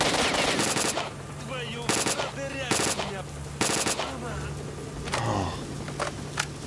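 Rapid automatic gunfire bursts in S.T.A.L.K.E.R. Shadow of Chernobyl, loud cracking volleys repeating every second or so, with armor-piercing rounds being fired and a buzzing whine between shots.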